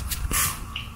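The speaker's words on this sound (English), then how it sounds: "So we're going to spray all this area." A short hiss of Pledge cleaner sprayed from a trigger bottle onto a plastic surface, one brief puff followed by a softer spritz, close to the mic.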